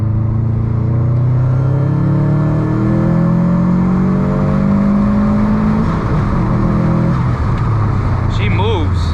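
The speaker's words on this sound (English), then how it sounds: "Guess who was doing a nice third gear pull here?" A 350 hp Subaru WRX STI pulls hard in third gear under boost, its engine note climbing loud and close for several seconds before the revs drop off and the pitch falls away.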